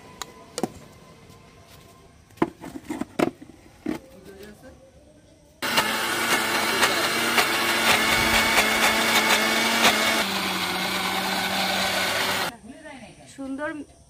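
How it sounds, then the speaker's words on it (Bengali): A kitchen mixer grinder whirs loudly and steadily for about seven seconds, blending roasted green mango with green chillies, coriander leaves, sugar and salt, then cuts off abruptly; quieter kitchen clatter comes before and after. "কয়েকটা কাঁচা লঙ্কা, পরিমাণ মতো চিনি, পরিমাণ মতো লবণ দিয়ে এবার একটা মিক্সিতে একটা মিক্সচার তৈরি করে নেব।"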